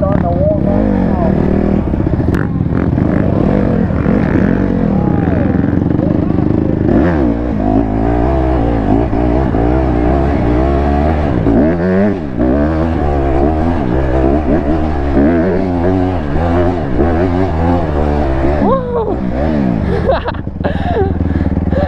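Motorbikes revving on dirt during a wheelie competition, engines rising and falling in pitch repeatedly, loud and close, with people talking over them.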